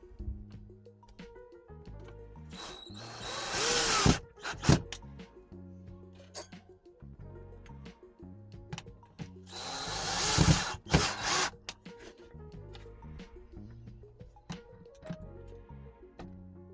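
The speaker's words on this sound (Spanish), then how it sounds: "Empezaré poniéndole unos tornillos aquí." A power drill drives screws in two long whirring bursts, each ending with a tightening grind, and light clicks and taps of handling fill the pauses.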